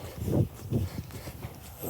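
Hooves of a ridden horse clop at a slow walk, several distinct thuds in an uneven rhythm, close and moderately loud with no talking.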